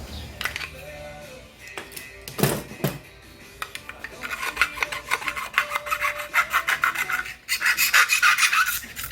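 Trim piece for a 1977 Chevy C10 being cut, a harsh rasping, scraping sound with quick repeated strokes that grow louder and faster toward the end, close up with no talking.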